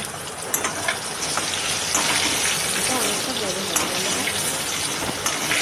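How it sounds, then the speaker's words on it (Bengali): Potatoes frying in a kadai of hot mustard oil over a gas flame, a steady dense sizzle and crackle that runs unbroken and fairly close throughout. "আলুগুলোকে গরম তেলে ভেজে নিলাম"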